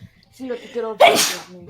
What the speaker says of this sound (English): I sneezed away from the mic.